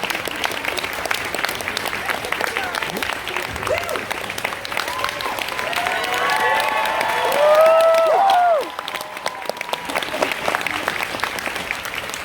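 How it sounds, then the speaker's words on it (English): A crowd at a cosplay competition claps continuously, a thick steady patter with some cheers and voices mixed in, rising to a louder peak near the end before easing back. "You gotta keep clapping, guys. You gotta keep going."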